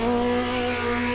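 Car engine in Automobilista 2 with a 4-speed H-pattern gearbox, a loud steady droning hum held at constant revs under a whine of tire and road noise, with no talk.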